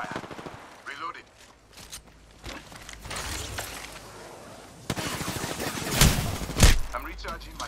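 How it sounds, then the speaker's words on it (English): Gunfire in the Apex Legends battle royale shooter, played as Wattson: bursts of shots crackle at irregular intervals, heaviest and loudest near the end, mixed with game effects and a voice talking throughout. "I am taking fire."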